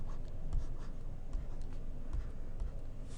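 Chalk or marker writing a physics equation on a board, a steady scratchy stroking with short repeated taps, close and fairly quiet, with no talk.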